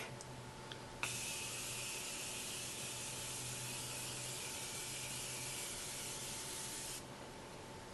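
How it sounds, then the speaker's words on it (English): A continuous hissing spray of makeup remover runs steadily for several seconds close by, starting with a short click and stopping abruptly near the end. "But I'm gonna spray it on my other side."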